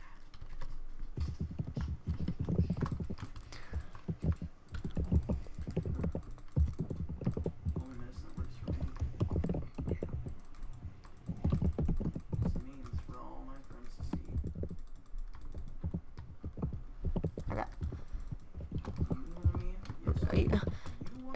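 Steady computer keyboard typing during a Minecraft-style factions game session, a continuous patter of keystrokes with people talking intermittently over it.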